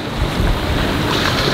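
Strong wind roars steadily across the microphone aboard a sailboat at sea, with the rush of waves blending into a constant, loud blowing.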